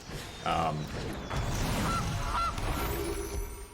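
A goose honks as the Gilded Goose card is played in MTG Arena, a few short nasal honks over a low game background hum with no talking.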